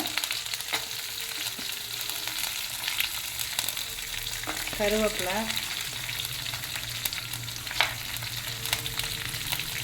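Onions and curry leaves sauté in hot oil for a hotel-style spicy chutney, giving a steady, close sizzle that crackles throughout with brief stirring scrapes partway through.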